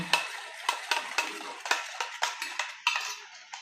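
Turmeric and chili powder being stirred into a mixture with a utensil, giving repeated clinks and scrapes against a pan or bowl, about eight sharp strokes in an uneven rhythm, close up and fairly quiet, with no talk.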